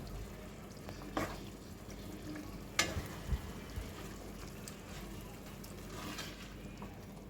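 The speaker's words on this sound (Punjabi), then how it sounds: "ਇਹਨੂੰ ਕਰਾਂਗੇ ਚੰਗੀ ਤਰ੍ਹਾਂ ਮਿਕਸ" Spiced chicken liver sizzles steadily in a pan, with a few soft scrapes and clinks as it is stirred; no talking.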